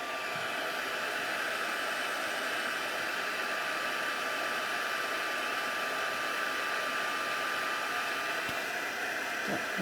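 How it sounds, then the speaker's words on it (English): A craft heat tool used for embossing blows a steady, close, loud whoosh of hot air, a continuous broadband hiss that holds level throughout with no talking. "let's grab our heat tool"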